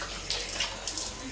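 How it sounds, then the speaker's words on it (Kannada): Hands being washed under a running tap: a brief, steady splash of flowing water with slight surges, fairly close and alone. "ಸೊ ಇವಾಗ ಹ್ಯಾಂಡ್ ವಾಶ್ ಮಾಡ್ಕೊಂಬಿಡೋಣ"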